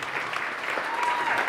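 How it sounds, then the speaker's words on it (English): A crowd gives a steady round of applause for a guest's wife at a live podcast taping, dense clapping sustained evenly throughout with no voices over it. "Give her a round of applause."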